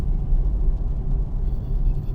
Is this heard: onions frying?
no